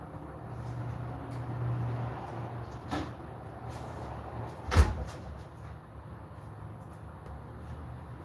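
A refrigerator door is opened and shut indoors to grab a drink, heard as a faint click and then a duller thud against a low room hum. No voices.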